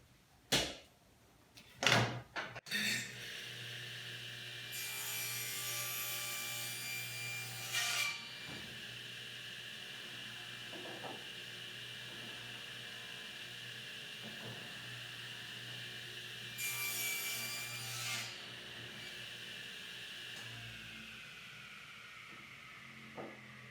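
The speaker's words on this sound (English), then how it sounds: "So we'll do a bunch of sawing, take those pieces out and start assembling that" Pallet wood is cut with a power saw in a workshop while building a tomato trellis. After a few sharp knocks the saw runs as a steady whirring hum, and two separate cuts rise loud and harsh, the second one around the middle.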